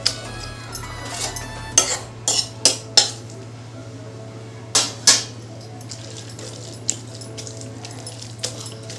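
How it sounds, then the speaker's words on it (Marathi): Spinach greens mashed coarsely in a pot for a rustic village-style spinach dish, with sharp utensil knocks and scrapes against the pot coming in irregular bursts over a low steady hum, no voices. "जास्त बारीक नाही रगडायची, आबडधोबडच रगडायची"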